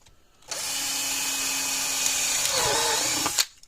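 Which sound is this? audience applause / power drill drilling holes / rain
power drill drilling holes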